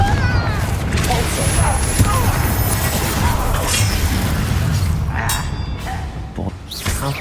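A Confringo blasting spell in Hogwarts Legacy erupts in a loud, continuous wash of booming, whooshing and crashing game noise that fades near the end.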